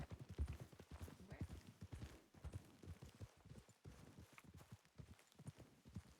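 Horse hooves clip-clopping in a Western roleplay video game, a faint, steady walking rhythm of many hoof strikes continuing throughout, with soft background game ambience.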